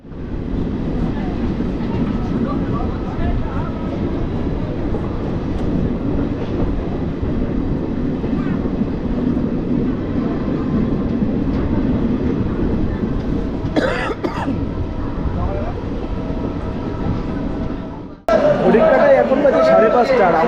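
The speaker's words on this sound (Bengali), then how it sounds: "আমাদের ট্রেন কালকা টু হাওড়া নেতাজি এক্সপ্রেস" Kalka-Howrah Netaji Express train at Prayagraj Junction station, a steady loud rumble of the moving train with chatter and a cough in the carriage, then a sudden shift to brighter, clattering noise near the end.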